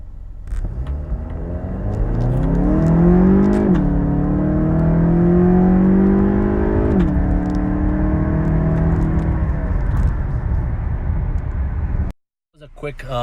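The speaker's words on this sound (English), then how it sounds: "Quick 0 to 60 pull with everything back to stock except for the tune." Car with a stock setup apart from its engine tune doing a hard 0 to 60 run. The engine climbs loudly, drops pitch at two gear shifts, then fades as the run ends.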